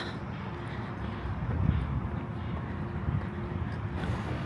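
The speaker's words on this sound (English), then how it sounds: "God, the wind." Wind blowing outdoors and buffeting a microphone as a low, continuous rumbling roar with gusty swells, close and steady, with no talking.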